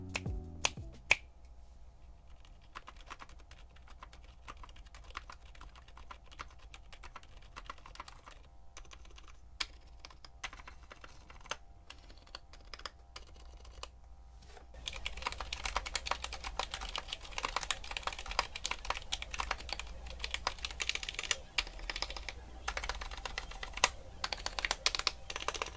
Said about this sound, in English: Here's a quick sound test of both the linears and the tactiles.